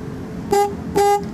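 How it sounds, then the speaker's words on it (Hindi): Car horn wired through a newly installed horn relay gives two short beeps about half a second apart, close and clear over a low background hum. "अब ये इसकी हॉर्न की तार है, ठीक है, जिसको मैं जमा से लगाऊँगा तो ये हॉर्न चलेगा।"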